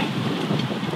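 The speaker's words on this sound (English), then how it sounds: "Bloody windy." Wind buffets a microphone outdoors at a sheep basecamp, a rough continuous low rumble with gusty fluctuations, and no voice over it.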